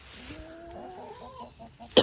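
A sick brown rooster on a small poultry farm in winter makes a strained, wavering crowing call followed by a few short clucks, with a sharp sound at the end.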